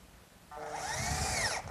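A power drill spins up and drives a drywall screw into the base of an oak bathroom vanity, a short close whir that rises in pitch and then cuts off.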